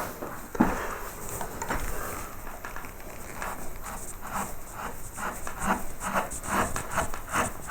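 A carving tool pares marks off a wooden fleur-de-lis carving in soft, repeated scraping strokes close by, steady and rhythmic at moderate loudness with no talk.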